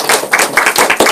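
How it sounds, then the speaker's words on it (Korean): A small audience at a business presentation claps briefly, about a dozen sharp, fairly close hand claps in quick succession before fading. "이 순간에 박수 한번 쳐주셔야 됩니다."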